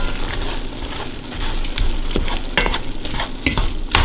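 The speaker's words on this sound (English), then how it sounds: "So we're gonna dump all these in, just like so. I'm gonna stir this in." Ingredients being stirred into a pot of Texas chili, with scraping spoon strokes and a steady low sizzle underneath, close and fairly loud with no talking.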